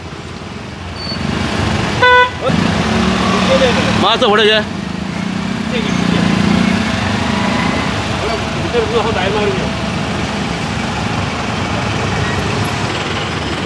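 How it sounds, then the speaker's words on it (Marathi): Traffic jam on a Mapusa street after an accident near a hospital, with a few short car horn toots and the steady rumble of idling engines and vehicles around, while people talk close by throughout. "आतां पळय कशी ट्रॅफिक ब्लॉक जाल्या"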